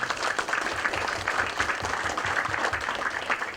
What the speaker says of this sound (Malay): Kita bagi tepukan kepada Nur Kalam.